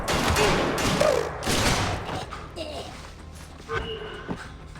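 Gunfire in the video game Splinter Cell Conviction: a loud, dense burst of shots and impacts in the first two seconds, then quieter scattered thuds, with shouting voices over much of it.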